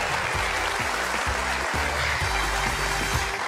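Studio audience at a stand-up comedy show applauds as a comedian is introduced, the clapping carried over a steady pulsing musical beat.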